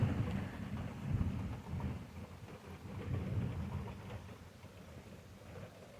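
Heavy rain pours steadily outdoors with low rumbling thunder rolling through, a continuous broadband wash with swells of deep rumble, no voices.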